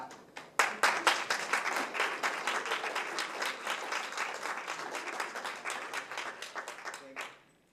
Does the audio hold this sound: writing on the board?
no